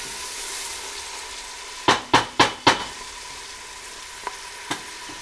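Onions sautéing on medium-low heat for a marinara sauce, a soft steady sizzle broken by four sharp clacks of a utensil against the pan and a couple of lighter taps afterward.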